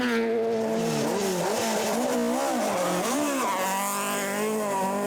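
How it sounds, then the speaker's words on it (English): Peugeot 208 R2 rally car on a forest stage, engine revving loudly and close with pitch climbing and dropping through gear changes, tires squealing briefly. "Rob and Tara Duggan continued to lead the 2-wheel drive section and were up now to 9th overall in their Peugeot 208 R2."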